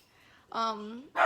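A pet dog gives a single short bark, loud and close, at a home full of animals, following a brief faint voice-like stretch.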